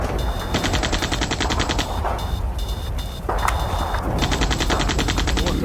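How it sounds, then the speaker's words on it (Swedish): Gunfire salvos in a tabletop role-playing sound effect, set in a post-war Twilight: 2000 scenario: repeated bursts of rapid automatic fire, some heavy, break off briefly and resume over a constant low rumble, loud and fairly close. "lite skottsalver börjar ni höra"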